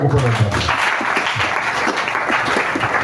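Church congregation applauding in acclamation during a French sermon, a dense continuous wash of clapping held steady for a few seconds, with a voice partly mixed in.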